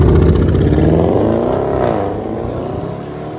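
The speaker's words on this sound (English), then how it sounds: "Audi Quattro S7 V8." An Audi S7 4.0L twin-turbo V8 with a straight-pipe exhaust revs hard up close, its deep, raspy exhaust rumbling and rising before easing off as it pulls away.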